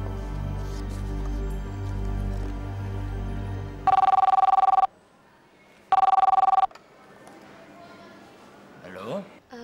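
A telephone rings twice in two long electronic bursts, loud and close, after a stretch of low rumbling background and before a brief faint voice.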